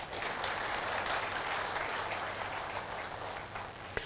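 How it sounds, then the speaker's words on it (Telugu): Audience applause at a talk on diet and health, a dense, steady clapping from a crowd that fills the whole stretch at an even loudness, with no voices over it. "చప్పట్లు తట్టండి అయ్యా."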